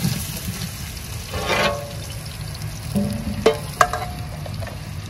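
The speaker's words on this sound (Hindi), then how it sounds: "और जो ऑयल गर्म हो गया, अब मैं इसके अंदर प्याज डालने लगी।" Onions sizzling in hot oil in a pot for a degi chicken pulao biryani, a steady close frying hiss with a few sharp clinks and scraping stirs, no talking.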